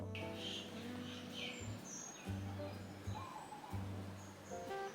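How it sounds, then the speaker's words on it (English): Birds chirp and twitter faintly in the distance, short scattered calls over a soft outdoor hush with a low intermittent hum. "I love the sound of birds while I'm listening to a podcast."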